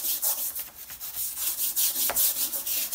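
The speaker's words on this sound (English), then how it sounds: "it's a combination of the degreaser, the brass tip, the scrubbing action I'm doing now" Brass-tipped scrubber working degreaser over a tile countertop, a steady rhythmic back-and-forth rubbing and scraping, close and fairly loud with no voices.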